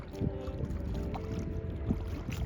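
A packraft kayak loaded with bicycles being paddled across a calm lake, soft water swishes and drips from paddle strokes at a relaxed pace, close and fairly quiet with a gentle background hush.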